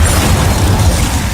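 The Incendio fire spell from the Hogwarts Legacy video game is cast as a loud, dense roaring burst that fills the whole moment, with a heavy low rumble and no voices.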